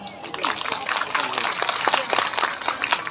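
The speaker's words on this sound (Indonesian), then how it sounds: "Tepuk tangan." Applause at a thanksgiving gathering and religious study event in Indonesia: dense, steady clapping from a crowd fills the whole stretch with roughly even loudness, and a voice talks underneath it.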